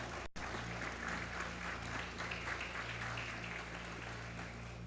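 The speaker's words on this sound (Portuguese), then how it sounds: "Se coloca de pé aplaudindo a Jesus," A church congregation stands and applauds Jesus during a worship service, a steady dense wash of clapping over a low sustained hum, with a brief dropout near the start.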